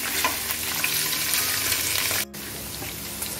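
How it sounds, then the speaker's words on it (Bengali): Paneer cubes fry in a pan for a Matar Paneer dish, giving a dense, steady hiss and crackle close by that abruptly drops to a quieter sizzle partway through. "হালকা পানির ভাজা করে নেব"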